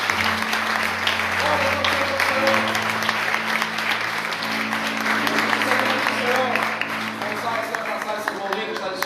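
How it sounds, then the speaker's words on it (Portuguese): A church congregation applauds during a Sunday-evening celebration service, with dense, sustained clapping from the crowd over sustained organ-like keyboard chords, loud and close, with a voice briefly audible above. "Dê uma salva de palmas a Ele"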